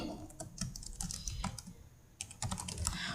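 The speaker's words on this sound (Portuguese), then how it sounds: "onde a gente vai digitar o número de pavimentos" Typing on a computer keyboard while filling in a spreadsheet: a steady run of close, crisp key clicks in small bursts with brief pauses, no voices.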